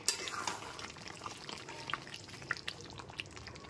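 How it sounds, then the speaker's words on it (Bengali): Chicken gravy with kasuri methi being stirred in a pan, with soft scraping and a light sizzle in short, uneven strokes at close range and no voices. "কসুরি মেথিটা খুব ভালো মতো চিকেনের সাথে মিশিয়ে দিচ্ছি"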